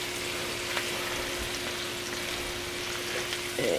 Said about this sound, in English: We're gonna take our chicken, put it in the pan. Just be careful it doesn't splatter you.